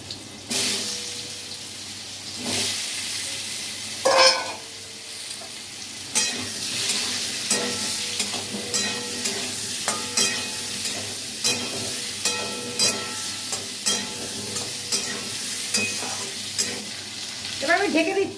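Potatoes sizzle in a hot pan while a spatula stirs and scrapes them in a regular rhythm of clacks, with a brief splash of water near the start; no voices.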